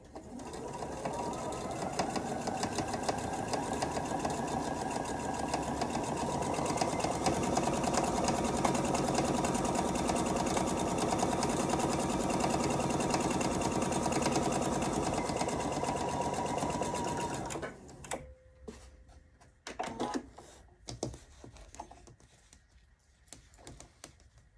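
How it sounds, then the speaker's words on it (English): A sewing machine runs steadily for about eighteen seconds, stitching a diagonal seam along a drawn line across a square-in-a-square quilt block. It is loud and close, then stops, leaving a few faint clicks and handling noises. "You can see I just sewed right on the line that I drew"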